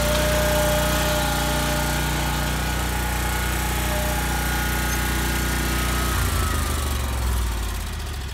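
A lawn mower engine runs at a steady, close drone through most of the stretch, then shifts and eases slightly near the end. No voices are heard.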